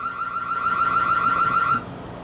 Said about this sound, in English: That's a siren there.